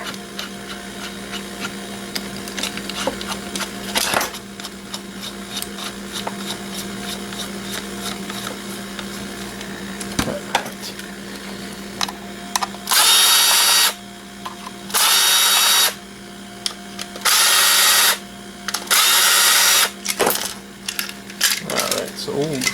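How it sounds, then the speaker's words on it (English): Power drill backing screws out of a scrap panel, whirring in several loud, even bursts of a few seconds each separated by pauses, with clicks and handling noise between them and a low background hum. "remove messed up screws, put the other bit back. We can start unscrewing."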